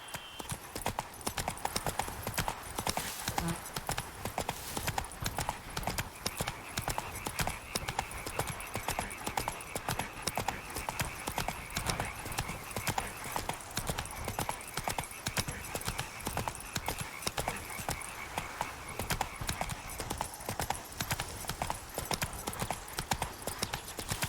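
Horse hooves gallop in a steady, rapid clip-clop rhythm on the open road in The Witcher 3: Blood and Wine, loud and continuous throughout, with a faint voice occasionally underneath.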